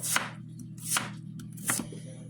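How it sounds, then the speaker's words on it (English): A kitchen knife chops vegetables into cubes on a cutting board, making three crisp, evenly spaced cuts up close with no talking. "Again, once you slice it, just cut it this way."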